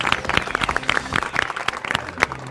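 Twelve quiz-show contestants clap for themselves after being thanked, a brief burst of close, scattered hand claps from a small group, steady for a couple of seconds.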